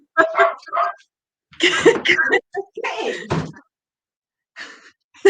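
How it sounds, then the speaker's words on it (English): A dog barks in several sharp bursts close by, mixed with some voice sounds, with quiet gaps between the outbursts. "Whenever I go live, he starts barking."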